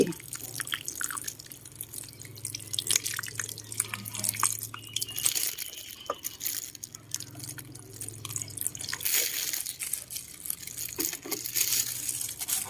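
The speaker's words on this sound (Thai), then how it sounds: "แล้วก็ลดน้ำเลยค่ะให้ชุ่มเลย" Water trickles and drips onto potting soil in a pot holding a caladium, with steady soft splashes and small crackles close by under a low hum, and no voices.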